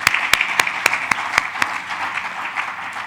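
Audience applause at a stakeholder forum panel discussion, a dense patter of clapping with several sharp, distinct claps standing out near the front, steady for a few seconds.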